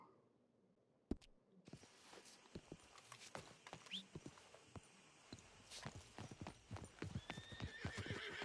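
Horse hooves from the video game Red Dead Redemption 2 clip-clop in a quick, steady rhythm, close and clear, with a brief whinny near the start and no talking.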